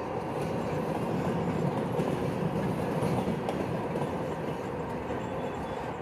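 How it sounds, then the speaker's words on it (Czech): A freight train from China rolls through Altynkol near the Kazakhstan–China border, a loud, steady rumble with continuous wheel clatter passing close by, no voices. "Teď jsme v Altinkolu, kam přijíždějí nákladní vlaky z Číny."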